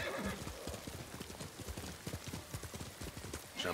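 A horse gallops with rapid, driving hoofbeats throughout in Ghost of Tsushima and neighs near the end, close and loud with no voices over it.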